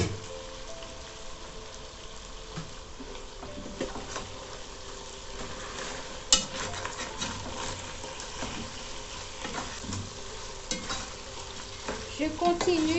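Chicken browns uncovered in a pot with an even, rain-like sizzle throughout, broken by occasional stirring knocks and one sharp clack midway, growing slightly louder toward the end.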